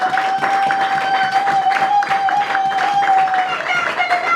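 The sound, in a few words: audience applauding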